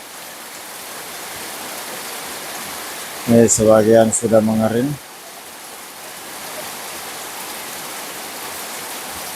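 Steady broadband rain falls at midday around the town of Sungguminasa, a continuous even hiss that runs alone for most of the stretch, briefly overlaid by a short spoken remark near the middle.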